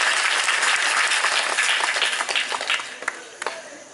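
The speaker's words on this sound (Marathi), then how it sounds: "त्या सर या सर वरती यांच्यासाठी एकदा टाळ्या वाजवा" Audience applause at a public speech event, a dense sustained clapping from a crowd that thins toward the end, with a few louder individual claps standing out.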